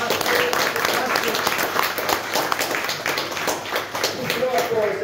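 A crowd applauding steadily with dense, continuous clapping, while voices talk over it.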